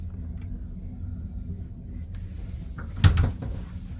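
A closet door in a Carnival Vista deluxe oceanview cruise cabin swings open with a short, close knock and rattle over a low steady hum of ship ventilation.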